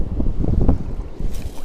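Steady, rumbling wind buffets the microphone on a fishing boat off St. Lucia, loud and close with no speech.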